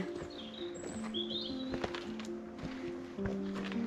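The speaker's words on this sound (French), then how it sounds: "T'as les oiseaux qui t'accompagnent." Small birds chirp in short, faint bursts beside a waterfall trail, the calls set against a steady rushing wash of falling water and low background hum.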